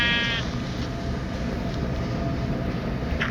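Sheep bleat in Minecraft Pocket Edition over a steady, dense background rumble of game ambience, the calls fairly faint and mixed into the constant noise.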